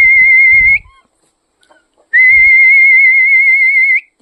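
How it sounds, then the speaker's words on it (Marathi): Two long, loud, steady whistles call chickens on a poultry farm, the first brief and the second held for nearly two seconds, with faint rustling and clucking in between. "शिट्टी मारली की लगेच धावत जवळ येतात"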